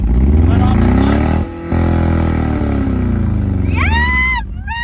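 A manual-transmission car pulls away as the driver gives gas and lets off the clutch, with a loud steady engine drone, a brief dip, then a rising whine as it picks up speed while people talk.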